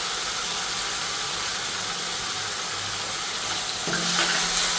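Fenugreek leaves for Kathiyawadi methi gatta drop into hot oil and sizzle loudly and steadily, the hiss swelling near the end as more leaves hit the pan.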